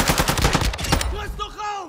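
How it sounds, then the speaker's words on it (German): Rapid automatic gunfire from the video game Warzone 2.0 DMZ, a dense burst of close, loud shots that stops abruptly about halfway, followed by a voice talking. "Ich werde beschossen!"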